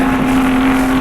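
A BMW touring race car engine at full throttle at Surfers Paradise Raceway in 1985, a loud steady droning roar with a sustained pitched tone as the car passes close.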